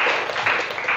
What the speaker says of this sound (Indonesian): tepuk tangan untuk temannya